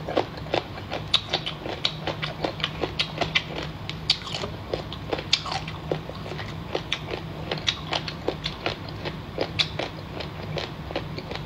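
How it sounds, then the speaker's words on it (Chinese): Close, crisp crunching bites and chewing of spicy seafood such as crab, octopus and squid repeat in a steady rhythm for several seconds, with no talking. "喜欢吃这种脆的声音的，一定要来给来上个双击啊！"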